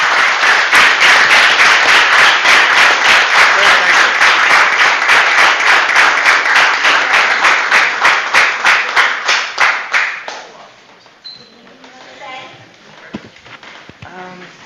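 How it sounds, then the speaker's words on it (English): A council meeting audience in Bristol Borough gives a long round of applause, loud, steady clapping from many hands that thins out and stops near the end, followed by faint room noise and murmuring. "let's give him a big round of applause for getting a very dangerous individual off the streets of Bristol Borough"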